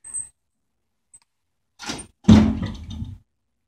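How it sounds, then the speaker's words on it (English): Elevator doors at Pratt Music Hall slide shut with a soft rumble and then a firm thunk as they meet, heard close in an otherwise quiet space. "Then we watch doors close."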